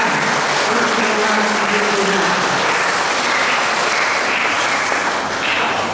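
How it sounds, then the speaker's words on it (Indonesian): Crowd applause for the combined choir at a Christmas Eve Mass at a parish church in Pemalang, a steady, dense clapping that fills the whole stretch without pause. "Kita beri aplaus untuk KOR gabungan."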